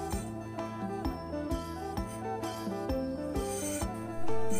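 A knife rasps along the edges of bamboo strips being trimmed for basket weaving, giving repeated scraping strokes in a steady rhythm, close and fairly quiet, under background music.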